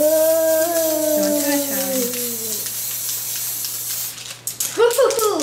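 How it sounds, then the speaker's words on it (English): Gold spray paint hisses onto unicorn cupcakes in short, loud bursts near the end, after a stretch of talking. "Now we are going to spray them with the gold spray."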